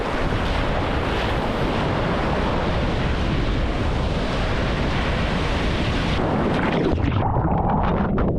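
Ocean surf rolling in at a New Zealand beach, a steady loud broadband wash of breaking waves with wind buffeting the microphone, easing slightly toward the end.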